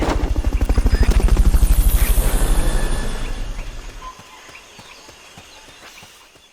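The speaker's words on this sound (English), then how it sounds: "Fulton recovery helicopter is complete." The Fulton recovery helicopter in Metal Gear Solid: Peace Walker, a loud rapid rotor thump that dominates the opening seconds, then recedes and fades away, leaving a quiet ambient background.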